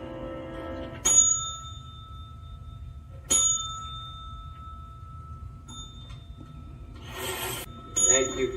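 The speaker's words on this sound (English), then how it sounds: "Thank you for making sure the bell works." A bell is struck several separate times, each a bright, sharp ding with a short ringing tail, spaced a couple of seconds apart over a faint, quiet background.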